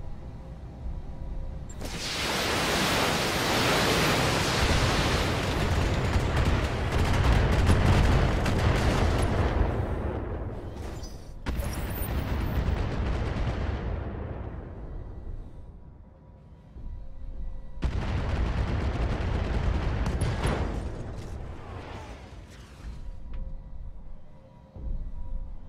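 A Battletech mech fires all its weapons at once, producing heavy booming artillery-like volleys in three long rumbling bursts separated by short gaps of near silence.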